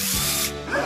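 Dental drill giving a short, loud, high-pitched mechanical whir that winds down after about half a second.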